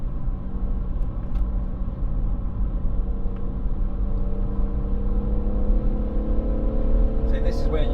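A BMW M140i drives around the Goodwood circuit, its engine a steady, loud in-cabin rumble and drone that holds throughout with a slight rise toward the end; no distinct braking sound stands out.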